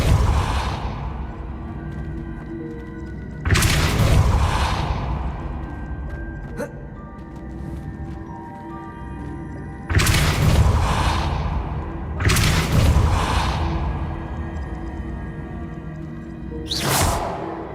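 Spell casting in the Hogwarts Legacy video game, the Depulso force-push charm: five loud whooshing bursts with rumbling thumps, arriving irregularly over a steady low game ambience, with no talking.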